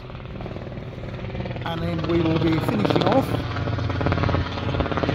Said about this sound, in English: Apologies for the helicopter.